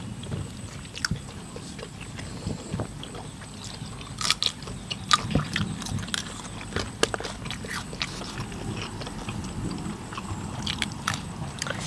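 Crunchy close-up chewing of a spicy Thai pounded salad eaten with crisp raw vegetables, irregular sharp bites and crunches scattered across a low background, densest in the middle.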